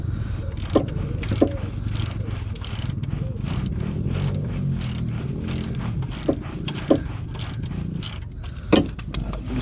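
Adjusting and tightening the alternator belt on a VW Polo Mk2F: repeated metallic ratcheting clicks and clanks in uneven bursts, close up over a low background rumble.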